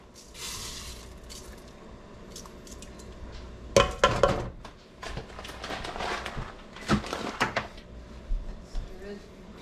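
A pot being stirred and covered with a lid in a home kitchen, with clattering metal clinks and a clear clank midway as the lid goes on, while a person talks over the sounds.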